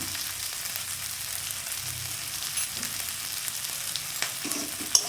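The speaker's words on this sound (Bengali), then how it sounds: "আলুগুলো আবার নেড়ে দিলাম।" Potatoes frying in a pan for a Bengali-style prawn curry sizzle steadily, with occasional soft scrapes and clinks as they are stirred, and no one speaking.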